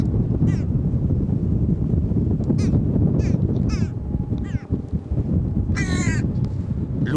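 A trained bird, a crow-like species, gives several loud harsh caws spaced through the flight with outdoor background noise, no speech.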